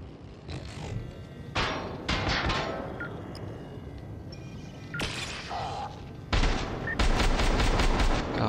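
Rapid bursts of gunfire in the video game Syndicate, several loud volleys in a row with short gaps, set against a steady background of game noise.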